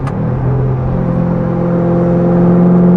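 A Chevrolet Corvette E-Ray V8 idles low and steady while warming up, with a deep, rumbling valvetronic exhaust drone that swells slightly, loud and close.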